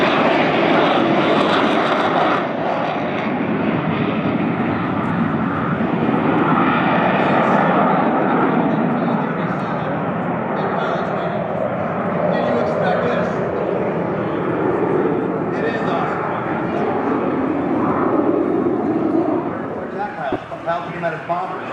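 Loud, continuous A-37 Dragonfly jet engine roar close by at an airshow, steady and broadband, with a brief mechanical rattle near the end.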